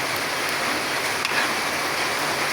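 Steady rain falls outdoors during cooking of banana cue, a dense, even hiss of drops that holds at the same level for the whole stretch, with no voices over it.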